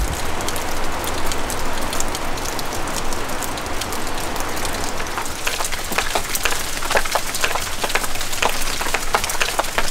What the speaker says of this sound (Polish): To jest taki oceaniczny, gęsty, drobny deszcz.